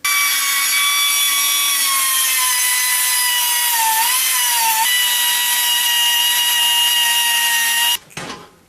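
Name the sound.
cutoff wheel grinding rivets flat on a solenoid relay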